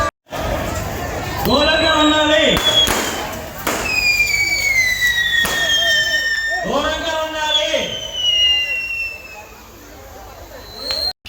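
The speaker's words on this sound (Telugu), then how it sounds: "ఈ క్రాకర్స్ మాత్రం ఇంత బాగున్నాయని అని సంబరపడాలా లేదా వచ్చి ఫట్టాఫట్ట ఫట్టాఫట్ట జనాల మీద పడుతున్నాయి అని అనుకోవాలా" Firecrackers burst at a village temple fair, with sharp sporadic cracks and pops over loud festive noise, whistling tones and crowd voices.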